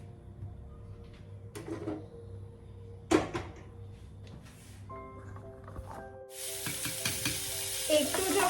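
Oil sizzling in a pan for cauliflower curry, quiet at first with a few sharp knocks and clanks, then a bright, loud hiss of frying bursting in near the end.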